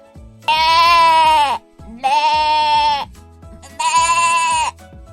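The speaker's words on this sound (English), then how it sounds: "Sheep." Three loud, drawn-out sheep bleats, each about a second long, close by and separated by brief pauses.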